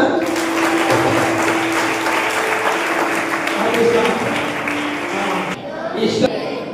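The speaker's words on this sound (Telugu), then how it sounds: "కొట్టండి చప్పట్ల" A congregation at a youth praise and worship meeting claps hands in a steady, loud, rhythmic burst that runs several seconds under singing voices, then stops abruptly near the end.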